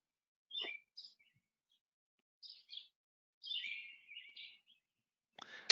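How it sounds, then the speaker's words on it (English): Small birds chirp outdoors in short, faint, scattered bursts with silent gaps between them, heard alone with no talking. "the birds in the background are lovely"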